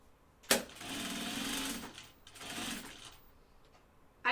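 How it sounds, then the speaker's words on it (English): A home sewing machine runs two bursts of stitching through an anorak shell and its lining, a close whirring hum with a click at the start and a brief pause between runs. "I'm trying to stitch through the lining as well"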